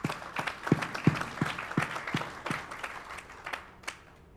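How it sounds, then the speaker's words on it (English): A small group at a membership meeting claps, a steady rhythm of distinct, fairly close hand claps that thins out and fades after a few seconds. "a round of applause for our 50-year members"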